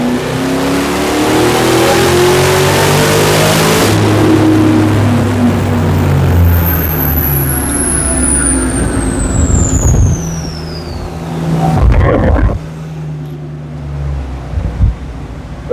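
A 2003 Ford SVT Cobra's engine roars loudly on a dyno, a sustained high-RPM pull with a rising whine, then it cuts off abruptly with a clunk and settles into a lower idle and brief revs.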